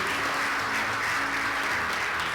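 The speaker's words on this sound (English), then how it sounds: "Round of applause for everyone, please" Sustained applause from an audience at an award presentation, steady and dense throughout without a pause.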